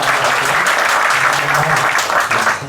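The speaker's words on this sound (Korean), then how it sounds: "하나님께 감사와 영광의 박수 받았으면 좋겠습니다." A church congregation applauds loudly and steadily during a sermon, a dense wash of many hands clapping close by, with a faint murmur of voices underneath.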